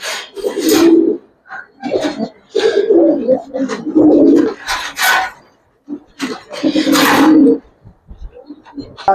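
Old-breed Giribaz and silver pigeons cooing at close range, with repeated throaty coos in bursts and short pauses, loud and full, mixed with flapping and rustle from the birds.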